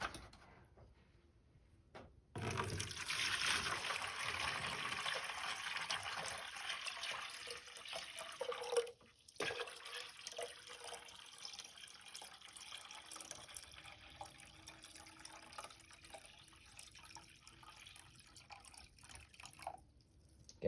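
Water is poured slowly and steadily into a plaster of Paris mix for a furnace, a continuous trickling splash that runs for several seconds, pauses briefly, then resumes more quietly and fades.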